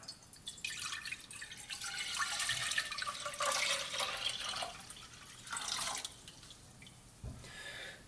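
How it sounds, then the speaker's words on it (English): Water poured into a cooking pot in a kitchen, a broad splashing, running rush that swells and eases in bursts over several seconds, with a few dripping spots and no talking. "we're going to add our water to our pot"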